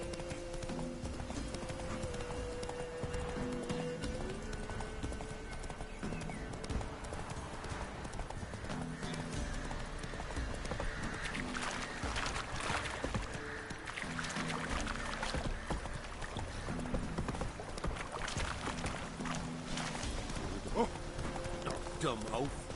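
Roach the horse galloping in Witcher 3, a steady rhythmic clip-clop of hooves running throughout, with game music and occasional voices over it.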